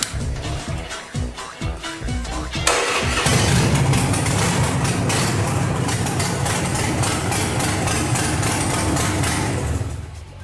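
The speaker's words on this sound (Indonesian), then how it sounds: "Itu motor saya yang nyala." Big motorcycle engine cranking over a few times, then catching and settling into a steady, loud idle, with people talking at first.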